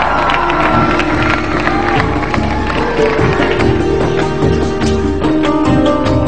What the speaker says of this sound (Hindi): ताहिर शाह के लिए बहुत सारी तालियां.